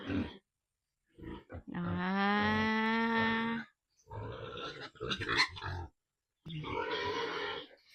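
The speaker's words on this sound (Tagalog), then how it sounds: "Kasing laki na ng ano, baboy ni Ayos." A pig grunts and squeals in several bursts, one long drawn-out tonal squeal followed by shorter rough grunts, close and fairly loud with brief pauses between.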